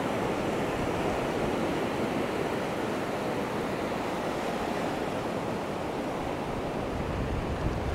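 Waves wash steadily onto the sand at Ao Manao beach near Prachuap Khiri Khan, Thailand, a continuous broad surf roar with no talking.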